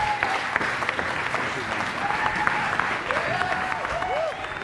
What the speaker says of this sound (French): We applaud you. On t'applaudit.